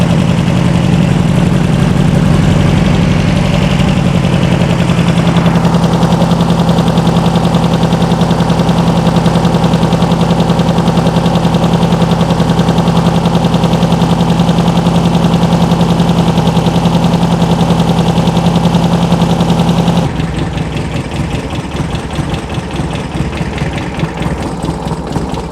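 A sand rail's 2.2L engine on dual 44 IDF carbs idles loudly up close, a steady rough, throbbing drone that shifts tone and eases slightly near the end.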